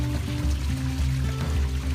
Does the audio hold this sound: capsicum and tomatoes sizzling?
no